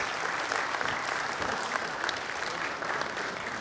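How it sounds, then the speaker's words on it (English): Steady, dense applause from an audience at a plenary lecture session, continuous and even throughout with no pauses, filling the room at moderate loudness. "Can we have a huge round of applause?"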